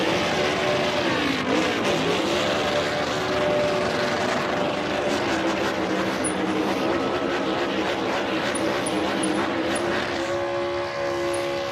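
A Kyle Larson NASCAR Cup race car engine held on the rev limiter during the 2025 Food City race, producing a loud, continuous, steady-pitched roar that stays close and unbroken throughout.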